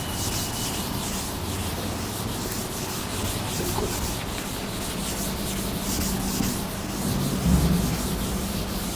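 Writing being rubbed off a classroom board, a continuous close scratchy rubbing sound that runs without pause, no talk.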